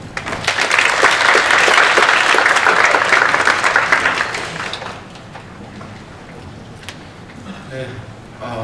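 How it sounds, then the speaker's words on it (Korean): Audience applause at a Hanyang University ERICA design college admissions briefing, a loud dense wash of many hands clapping for about four seconds, then fading out into quiet room tone. "박수 부탁드립니다."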